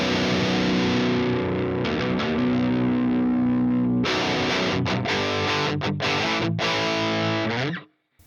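A distorted death metal lead guitar, set with mids and bass cut, treble boosted and gain reduced, rings out alone with sustained, saturated notes. Later it turns into choppy, clipped phrases before cutting off at the end.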